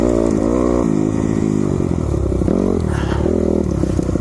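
A dirt bike ridden in Idaho hunting country gives a loud, steady engine drone close by, its pitch rising and falling slightly as the rider changes throttle, with no voices over it.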